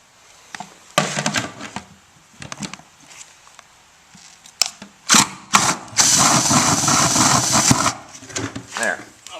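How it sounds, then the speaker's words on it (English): A hand drill fitted with a bigger bit widens a hole in a water filtration build, with short bursts of whirring and grinding separated by pauses, then a longer sustained run near the end. "I'm just going to take back with the bigger drill bit"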